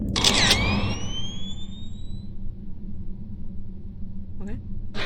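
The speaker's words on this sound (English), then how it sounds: "Push the shutter." A camera shutter clicks once in the video game Love, Sam, a sharp, close snap followed by rising electronic whistling tones, with a faint low rumble underneath and a short voice later.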